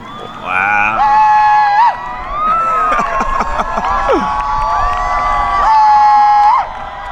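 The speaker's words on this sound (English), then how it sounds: "right as the last sliver of sun closed out, cheers, applause, everyone was screaming" A crowd cheers, whoops and screams as a solar eclipse reaches totality. Sustained high shouts and excited yells, including children's voices, rise and fall in overlapping bursts across the whole stretch.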